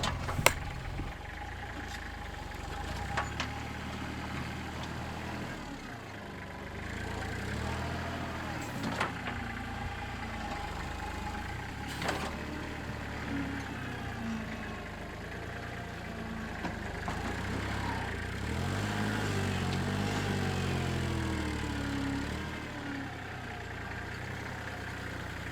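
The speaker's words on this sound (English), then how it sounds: "here comes Dave on the tractor to scoop up a large pile and bring it over" A tractor engine rumbles and idles at a steady medium distance, with occasional knocks and clanks over the low drone.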